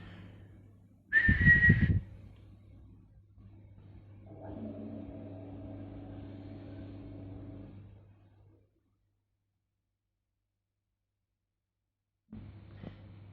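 A short sharp whistle, then a quiet low hum and a softer tonal drone fading to near silence.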